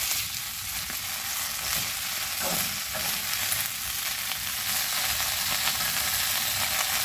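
Water spinach is stir-fried with garlic in a hot pan, producing a constant, loud sizzle and crackle with faint scraping from stirring over about seven seconds.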